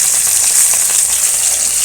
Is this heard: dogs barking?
no